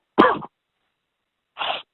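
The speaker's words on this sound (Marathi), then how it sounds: "कोरडा खोकला लागतो मरणाचा." Two short, harsh dry coughs from a sick person, well separated by silence, close and loud.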